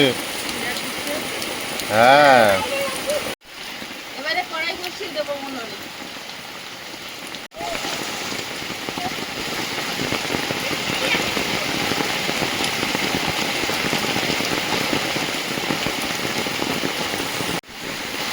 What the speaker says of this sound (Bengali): ভীষণ জোরে বৃষ্টি হচ্ছে